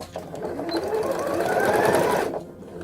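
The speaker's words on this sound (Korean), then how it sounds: "안감과 안감이 서로 만나서 박음질을 하는데" A sewing machine stitches two layers of lining fabric together in one steady, continuous run of rapid needle rattle, close and fairly loud, stopping near the end.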